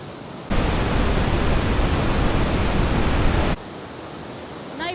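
Steady, loud broadband roar of Iguazu Falls on the Brazil–Argentina border, up to 64 metres high, rising abruptly, holding for about three seconds, then dropping to a softer rushing background.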